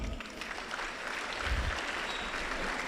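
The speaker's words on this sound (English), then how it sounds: "Clap for him." A classroom audience applauds a student, with dense, steady clapping from a group of people throughout, fairly loud and close.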